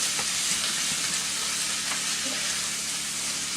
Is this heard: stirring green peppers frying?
yes